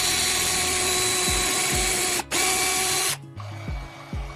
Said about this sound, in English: Clamp it in a vise and drill a hole along the handle.